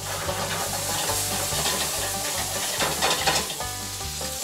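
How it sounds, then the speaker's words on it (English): Sausages wrapped in thin dough sizzle and crackle steadily in a hot frying pan, a dense continuous fry with a low rhythmic hum underneath, close and fairly loud with no talking. "All right, sausages are getting kind of brown."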